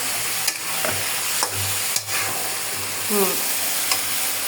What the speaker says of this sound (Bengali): ভালো করে কষা নিব এখন।